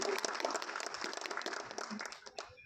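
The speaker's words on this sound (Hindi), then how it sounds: "थोड़ी जबरदस्त तालियां।" Crowd applause with scattered clapping, fairly faint and distant, steady throughout.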